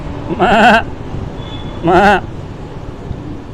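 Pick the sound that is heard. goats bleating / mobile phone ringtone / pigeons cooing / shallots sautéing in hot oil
goats bleating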